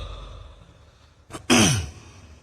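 After a moment of near silence during a political speech, the speaker gives one short, sharp cough split into two quick bursts.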